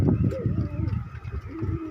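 Pigeons with eye trouble coo nearby in short, low, throaty bursts, overlapping with a person talking.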